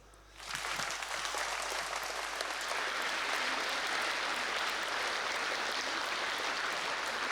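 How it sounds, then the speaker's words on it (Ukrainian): A crowd breaks into sustained applause after a short quiet moment, the clapping dense and steady until the end. "Йому оплески."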